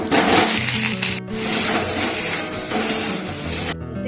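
Potatoes frying in mustard oil with salt and turmeric, giving a loud, continuous sizzle with brief stirring scrapes and a short break in the middle, and no one speaking.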